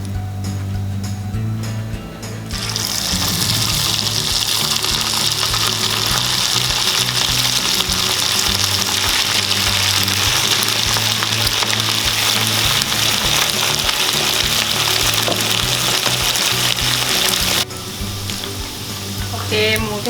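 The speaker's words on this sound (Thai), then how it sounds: "ก็ทอดให้หมดเลยนะ ก็เปลี่ยนเป็นไฟกลางๆ เหมือนเดิม ก็ใส่หมูลงไปนะครับ" Pork pieces drop into hot oil over medium heat for shrimp-paste fried pork, setting off a loud, dense sizzle that swells after a quieter start and runs steadily before easing near the end.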